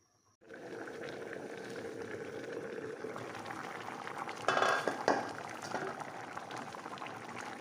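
Fish and potato curry made with river fish simmers in a covered pot, giving a steady soft bubbling hiss with a brief louder burst of rattling partway through, and no voices.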